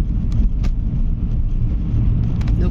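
A Mercedes van rumbles along a road from inside the cab, with steady low engine and road noise and a few sharp knocks or rattles, no talking.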